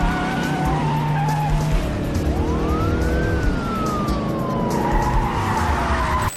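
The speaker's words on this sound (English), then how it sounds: "Every crunch, every flip, every demolished vehicle was real metal meeting real pavement." Cars roar past with tires squealing in a long skid while a siren wails and sweeps up and down in the background, in a movie car chase with real cars crashing and being destroyed.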